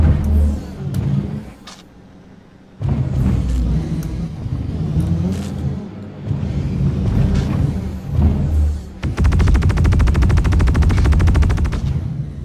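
Gunfire in the video game Star Citizen, with rapid automatic bursts over engine rumble and a sustained, dense stretch of fire at the end, loud and close.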